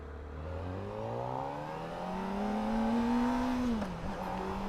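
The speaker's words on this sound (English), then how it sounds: "God, that engine sounds good." Kawasaki ZX-4RR 2024 motorcycle engine revs steadily higher under riding, a rising whine that climbs and holds before dropping briefly near the end, fairly loud and continuous with no talk.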